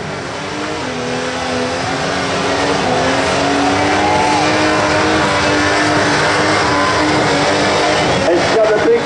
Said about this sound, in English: It's got a big block red engine in it.